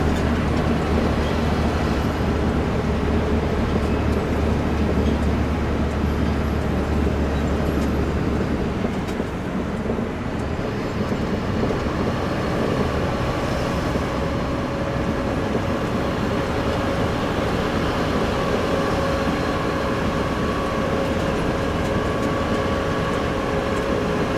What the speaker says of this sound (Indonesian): Ya ini kereta ini.